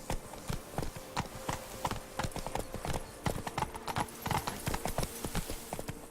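Roach, a horse in The Witcher 3 on the Blood and Wine expansion, trots close by in a quick, even rhythm of crisp hoofbeats, with no voices over it.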